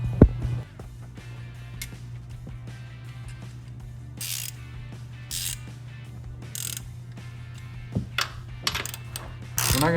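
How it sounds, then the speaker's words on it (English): A 21mm wrench ratchets in short clicking bursts while loosening a nut on the upper control arm of a 2007-2016 Chevrolet Silverado 1500. A steady low hum runs underneath, with a few metallic clinks. "we're going to start taking this nut off over here."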